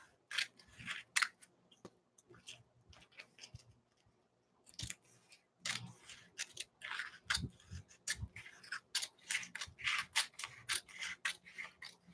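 Scissors trim a paper collage in close, crisp snips, sparse and irregular at first, then quicker, denser cutting in bursts, quiet overall with no talking.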